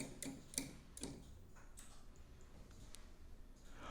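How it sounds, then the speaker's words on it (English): A prize wheel spins and ticks, the clicks coming quickly at first and then spacing out as it slows, close and fairly soft, with no talking. "now let's spin for the spicy"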